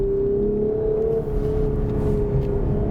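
A 2021 Lexus IS 350 F Sport engine holds high revs in Sport Plus mode in a steady, loud drone from inside the cabin, with a slight dip and recovery partway through.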